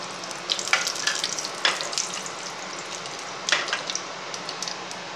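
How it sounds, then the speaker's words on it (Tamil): Mustard seeds and urad dal splutter in hot oil for a green gram gravy, a steady close sizzle broken by sharp popping crackles in irregular bursts, with no talking. "கடுகு பொரியட்டும். நல்லா கொஞ்சம் கடுகு பொரிஞ்சாதான் அல்லது கசக்கும்."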